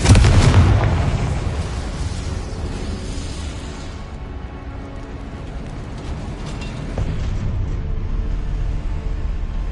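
Explosive Confringo spell blast in Hogwarts Legacy on PS5 Pro, a loud deep boom at the start that decays into a long rumbling roar with low crackle, then a renewed low swell later.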